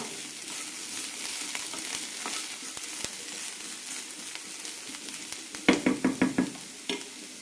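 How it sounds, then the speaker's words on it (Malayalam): Kashmiri and red chillies sauté in hot oil in a pan for banana stem chutney, a steady close sizzle with a short burst of crackling spits toward the end and no talking. "ഒരു കാശ്മീരി ചില്ലി ഇടാം. മൂന്നാല് മിനിറ്റ് നന്നായി വഴറ്റി കൊടുക്കണം."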